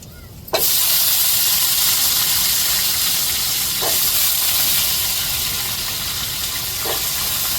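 Vegetables hit a pan of sautéed onions and start a loud, steady sizzle that bursts in suddenly and holds at an even hiss, with a few faint clicks.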